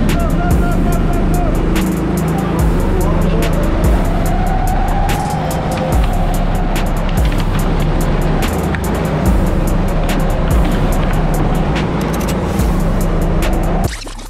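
Racing karts at a Bordeaux Lac kart track pulling away at the start of a race, a loud continuous engine roar with shifting whine as several karts accelerate together, dense and close throughout.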